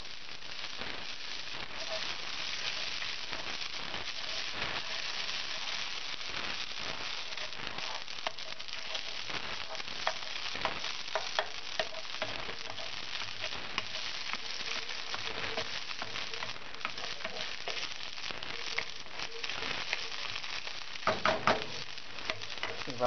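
Peas tipped into garlic-flavoured oil in a paella pan fry with a steady, close sizzle and light crackle, with occasional stirring and pan scrapes. No one speaks.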